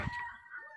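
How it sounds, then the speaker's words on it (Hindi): A hen's short clucking calls, close by and fairly clear, with a throaty rising note near the start and softer murmurs trailing after. "मुर्गी अंडा पा रही है, ये देखिए"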